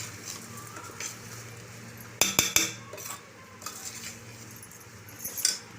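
Rice being stirred in a pot for masale bhat, with scraping spoon strokes and a quick burst of metal clinks against the pot over a low background hum.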